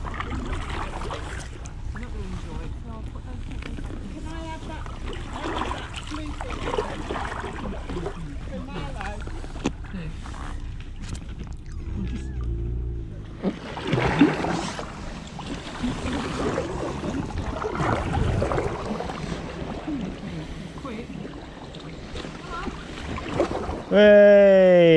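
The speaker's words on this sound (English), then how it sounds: "We've got another boat coming." A boat passing kayakers on the Oxford Canal between Hillmorton and Onley, a low rumbling engine swelling in the middle of the clip beneath paddle splashes, wind on the microphone and frequent conversation.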